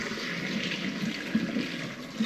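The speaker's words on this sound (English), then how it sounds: "Let's strain these." Water strained off cooked food in a homestead kitchen, a steady rushing, splashing pour with a few gurgling surges, close and continuous with no voices.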